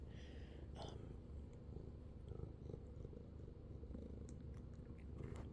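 A pet cat purrs close up in a continuous low rumble, steady and soft, with a few small crackles and rustles over it.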